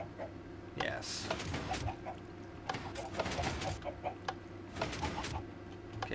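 Minecraft chickens cluck in short, scattered bursts over a steady low game hum, fairly soft and repeating irregularly through the stretch.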